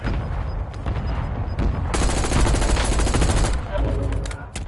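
Rapid nail gun fire in a Call of Duty Warzone match, a loud, dense burst of sharp repeated shots that runs for a couple of seconds amid other gunfire, with a player talking faintly.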